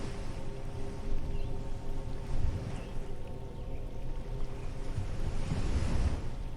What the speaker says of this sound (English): the sound of the sea softens slightly